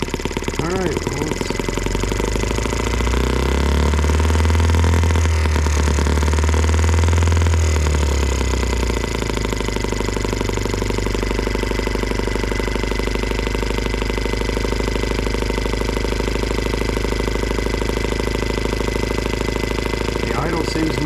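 M12B engine idling high on alternative fuel, a constant close mechanical drone with a brief deeper swell early on, while a person talks over it.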